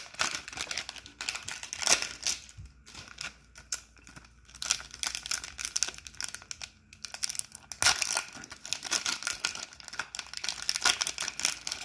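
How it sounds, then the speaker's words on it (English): Foil packs of Animal Crossing amiibo cards from series 4 and 5 being torn open up close, an ongoing crinkling and ripping of wrappers with irregular bursts and brief lulls. "let's get into opening up the packs"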